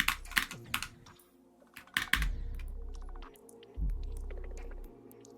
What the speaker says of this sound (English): Dude, I'm clicking sometimes. Is my keyboard breaking?